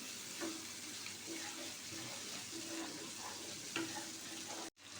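Tomatoes frying in a pan for a Bengali pabda fish bhuna, a steady close sizzle with a few light stirring scrapes, the sound cutting off abruptly near the end.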